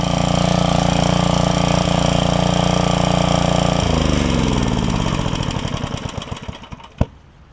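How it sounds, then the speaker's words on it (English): A 5 hp Briggs and Stratton generator engine idles steadily with slight valve clanking, then sputters and slows to a stop, ending with a single sharp clunk. "I can hear a little bit of valve clanking"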